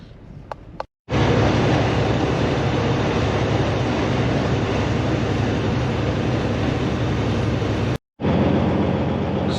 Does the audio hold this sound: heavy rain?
no